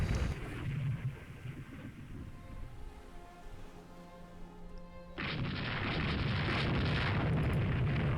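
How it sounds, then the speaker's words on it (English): Naval gunfire and shell explosions from a warship battle in Rule The Waves 2, heavy booming blasts that swell into a loud, continuous roaring barrage in the second half. "All of our secondaries are hitting them, but we're not getting any major hits with our primaries"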